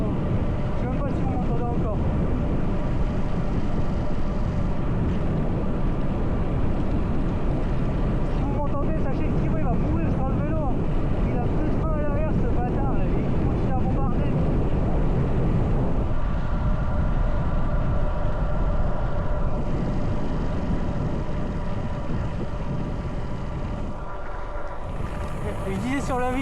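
Loud, constant wind buffeting on the microphone while cycling fast downhill in an aero position on a long road ride, a steady roar throughout with a voice speaking over it.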